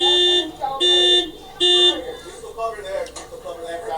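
Loud electronic alarm blaring in a house during a tense police confrontation, sounding in repeated long buzzing tones with shorter bursts between, under shouting voices.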